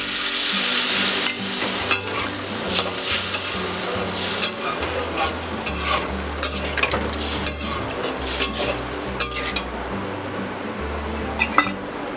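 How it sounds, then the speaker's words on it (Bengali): Masala for an egg dhoka curry fries in oil as a little water goes into the pan. It gives a steady sizzle with frequent metal stirring scrapes and clinks over a low sustained tonal hum. "এবার আমি একটু জল অ্যাড করি।"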